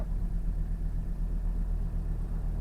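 A diesel Ford Ranger 4x4 pickup engine, 157 diesel, runs at a steady low rumble and idle, close and continuous, with no voices.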